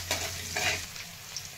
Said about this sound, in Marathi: लसूण आणि मिरची छान परतून घेतलेली आहे